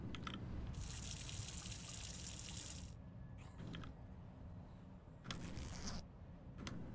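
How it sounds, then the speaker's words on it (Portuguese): Water pours steadily onto a freshly planted potato in the farming game The Last Farmer, a bright hissing stream that runs for a few seconds, then returns in brief splashes among faint game sounds. "Planta aqui uma batata e adiciona água."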